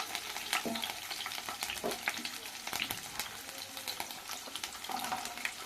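Chilli chicken ingredients are stirred and fried in a pan, with repeated scraping strokes from the spatula over a constant crackling sizzle, close and clear.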